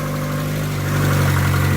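A car engine running after being repaired, a loud, close, steady rumble with a strong low hum that swells slightly partway through, with no talking.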